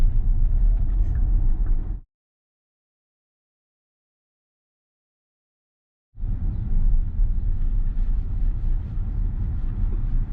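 Tesla driving on Full Self-Driving (Supervised v12.5.4.2, assertive profile) while turning left, a steady low cabin rumble of tyre and road noise that cuts out completely for about four seconds before resuming at the same level.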